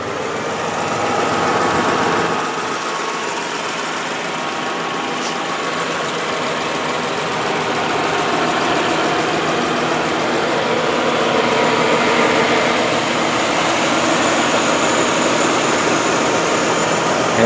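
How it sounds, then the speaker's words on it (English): A 2002 Hyundai XG350L with a 3.5 liter V6 idles steadily and evenly for the whole stretch, a close, continuous engine hum with no knocking and no talk over it. "let you guys listen to the engine"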